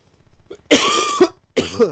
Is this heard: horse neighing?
no